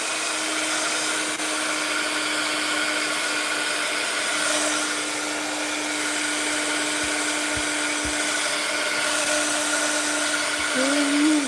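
A hair dryer blows steadily on a painting, a constant loud whirring drone with a fixed hum that runs unbroken throughout, with brief clicks and a short warbling shift near the end.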